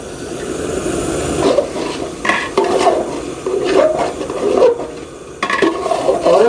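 Spiced masala stirred and fried in a large cooking pot, loud close scraping strokes of a spoon against the metal over a steady sizzle, coming in uneven bursts with short pauses.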